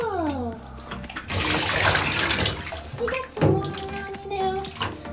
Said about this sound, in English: going to put some water.